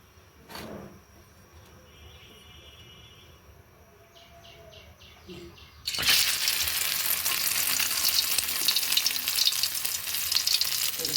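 Stuffed boiled eggs filled with minced beef start frying in a hot pan, a loud steady sizzle that suddenly begins partway through after quieter handling sounds, continuing alone without talk.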